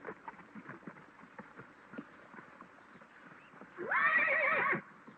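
A horse's hooves clop in an uneven rhythm as it comes out of a corral, followed by a loud, close, quavering neigh that lasts about a second.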